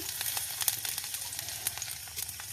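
Dried red chillies and chopped garlic sizzle and crackle steadily in a little hot oil in a pan, a close, continuous frying hiss with small pops and no voices.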